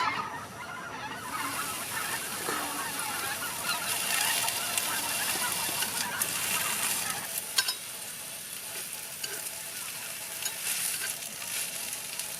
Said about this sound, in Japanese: なんか鳥がすごい鳴いてんな。